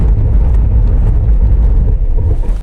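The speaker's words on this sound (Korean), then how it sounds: "계기판상 시속 105km에서 브레이크를 밟아서 실제로 시속 100km에서 5km까지의 제동거리를 평가해 보도록 하겠습니다" A Tesla Cybertruck Cyberbeast braking hard from about 105 km/h on a wet test surface, heard from inside as a loud, steady low rumble of road and tire noise that stays heavy throughout.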